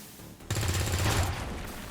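A single rattling burst of automatic gunfire from the strategy game XCOM 2 starts abruptly after a short quiet stretch. It stays loud and close, then fades out.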